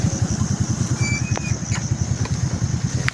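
A motorcycle engine idles close by on a mountain road at midnight, a loud, steady low putter with a fast regular pulse and faint high chirps above it, no speech.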